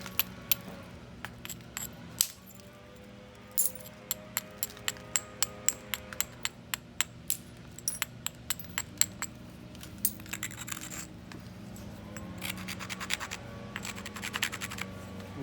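A dacite Clovis point is pressure flaked at the tip, giving a string of sharp, close, scratchy clicks and ticks as stone flakes pop off, with denser bursts of scraping toward the end.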